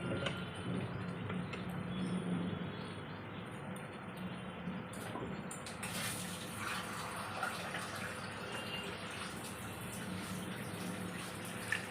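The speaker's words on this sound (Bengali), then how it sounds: "এবার আমি জল দিয়ে দেবো।" Water poured into a simmering katla fish and pointed gourd curry in a home kitchen, a steady pouring rush that grows brighter and louder partway through, continuous and close.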